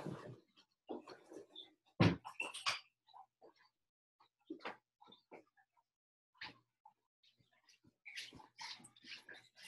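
A dog whimpers and whines in short, scattered bursts as it is let outside indoors, close and fairly quiet, with brief thumps and shuffling between the sounds.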